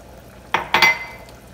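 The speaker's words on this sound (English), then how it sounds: "the last thing to add is going to be this heavy cream" Heavy cream poured into a Marsala sauce in a pan: a brief soft liquid splash and swirl in two close bursts, then a fading sizzle, near and alone.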